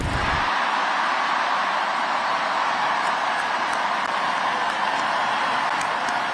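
Steady applause from a large convention audience cheering for Tim Walz, a dense wash of clapping that holds at an even level throughout with no voices standing out.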